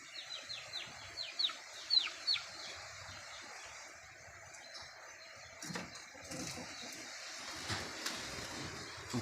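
Chickens cluck faintly in a quiet outdoor setting, with a few soft chirps early on and scattered low rustling.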